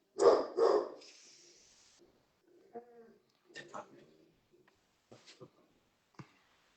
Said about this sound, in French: quand il voit les animaux à la télé, il aboie, Dexter.